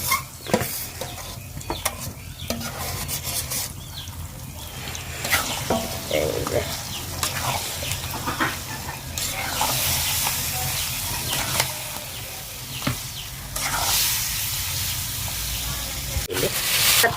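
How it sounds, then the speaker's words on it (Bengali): Oil bubbling and sizzling in a pan while cooking jujube pickle, a loud steady frying hiss that carries throughout with occasional stirring scrapes and clinks, close up. "দেখেন অনেক গজ গজ করে তেলের ভিতরে ফুটতেছে"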